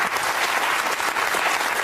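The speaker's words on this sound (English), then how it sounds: "Give him a round of applause, everyone." Dense, steady studio audience applause on a daytime talk show, loud and continuous throughout with no voices over it.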